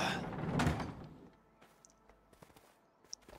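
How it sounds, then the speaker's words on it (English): A creaky, heavy door scrapes open loudly in the A Way Out video game, followed by scattered quieter clicks and knocks. "Aye, you can open the door."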